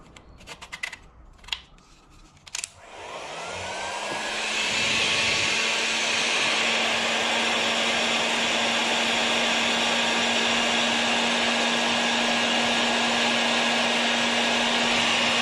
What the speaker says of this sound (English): I'm just going to use a heat gun because I have one to hand.